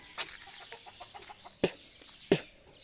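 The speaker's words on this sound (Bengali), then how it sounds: "এই যে এদিকে আমার মানে সব দেশি মুরগিগুলো আছে" Native village chickens on a home farm let out a few sharp, isolated clucks and squawks, fairly near, with a faint background in between.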